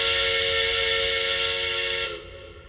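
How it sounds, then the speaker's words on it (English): Lionel model train whistle from the 2020 catalog line, a loud steady multi-tone electronic whistle sounding alone for about two seconds before cutting off into a fainter hum. "Whistle."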